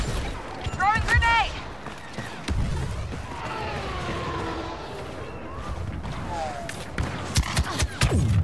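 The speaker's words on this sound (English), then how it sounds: "Throwing grenade!" Battle noise in the Star Wars Battlefront 2 multiplayer video game, with a grenade blast and gunfire bursting amid game voices, sharp booms and crashes scattered through a noisy, busy mix.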